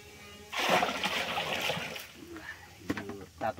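Hot water poured out during home raksi distilling splashes and gushes for about a second and a half, then trickles and drips in short bursts, close by.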